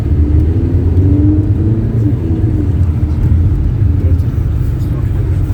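An Audi Q3 Quattro drives in sport mode, a steady close engine hum and road rumble running beneath people talking inside the cabin.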